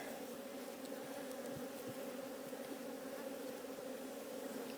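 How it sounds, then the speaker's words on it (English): Honey bees swarming around an opened hive during a spring split inspection, a steady faint drone of many wings with a few bees zipping close past. "I hope you guys can actually see with those bees attacking the camera"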